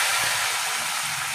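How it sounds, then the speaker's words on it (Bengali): Chopped tomato frying in a pan for a Bengali chholar dal, a steady, even sizzle that carries close and fairly loud without a break, with no voices over it. "একটা টমেটো কুচি কুচি করে কেটে রেখেছিলাম, সেটাকে একটু ভেজে নিচ্ছি।"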